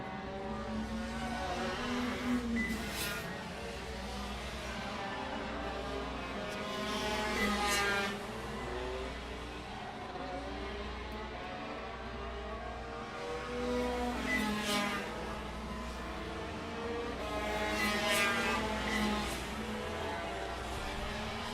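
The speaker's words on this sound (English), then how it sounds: "The two Primuses going at it in their Tony Kart shifter carts." Tony Kart shifter karts battle wheel to wheel at Pitt International Race Complex, engines droning steadily with periodic louder revving swells as karts pass close by, over continuous background track noise.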